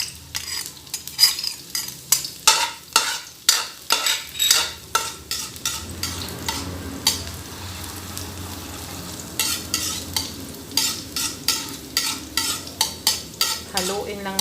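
Chopped garlic sizzles in a hot pan while a spoon or spatula stirs it. Sharp scraping strokes come in a quick irregular rhythm over a steady frying hiss, close up, and nobody speaks.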